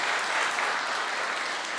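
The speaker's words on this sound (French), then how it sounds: "On applaudit les enfants quand même, on les encourage." Congregation applauding children at a church service, a steady wash of clapping from many hands, fairly close and sustained throughout without talk.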